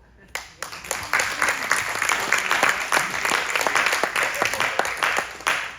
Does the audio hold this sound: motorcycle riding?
no